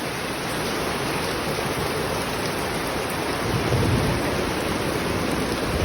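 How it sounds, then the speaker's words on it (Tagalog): Heavy rain pours down in a dense, continuous hiss, steady and loud throughout with a low rumbling undertone. "Ang lakas ng ulan, mga kumarites."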